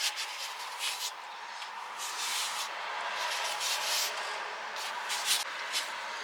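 Plaster is spread with a float and a small scraper, giving a soft, continuous scraping and rubbing close by, with gentle surges in loudness and no talk.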